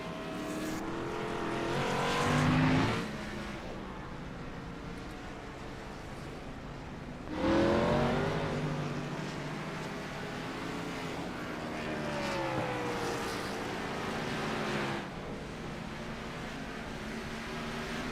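Gen 6 stock race cars roar around a video game oval, engine drone holding steady with louder surges as cars pass close by, about every five to seven seconds.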